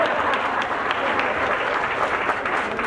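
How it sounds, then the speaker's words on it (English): An audience at a community event on affordable housing in Brooklyn claps in a continuous, fairly loud round of applause, with no talk over it. "you can clap for that"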